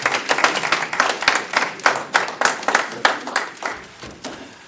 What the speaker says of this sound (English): It's improper to clap in this city council meeting.